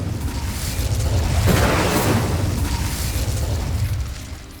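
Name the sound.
Incendio fire spell blast in Hogwarts Legacy video game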